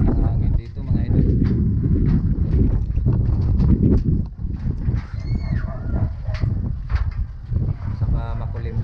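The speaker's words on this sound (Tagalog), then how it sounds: "Lakas ng hangin dito mga idol." Strong wind blows across an outdoor spot on an overcast afternoon, a loud steady roar and buffeting against the microphone for the whole stretch, with voices talking underneath.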